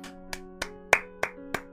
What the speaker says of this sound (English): got an applause.